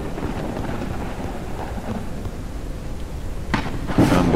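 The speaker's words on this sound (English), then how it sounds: "Lightning is getting closer." A thunderstorm in the video game Forever Skies: steady rain and rumbling wind with a sharper crack of thunder building near the end, loud and continuous with no talk.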